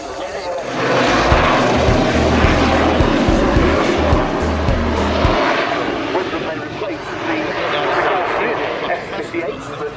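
A Belgian Westland Sea King helicopter flies at an air show, its rotor chop and engine drone steady and fairly loud beneath a commentator speaking over a public address system.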